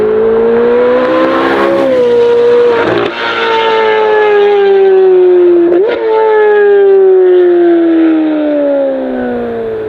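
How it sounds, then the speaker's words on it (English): A 2023 Chevrolet Corvette C8 Z06 engine fitted with an AWE exhaust screams loudly through high revs, climbing and dropping in pitch with brief gear-change dips between pulls. "right below that, we have the absolutely fantastic AWE exhaust. It takes this engine that already sounds phenomenal and it makes it sound even better"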